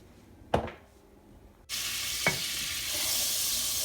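Olive oil and butter sizzle in a soup pot, starting with a short clack and faint hiss, then a sudden loud, steady broadband frying sizzle that carries on to the end with a brief knock partway through.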